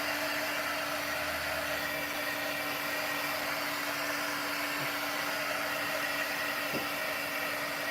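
A dryer blowing on wet mixed media paint, a loud, steady, close whooshing airflow with a faint tonal hum that holds unchanged throughout.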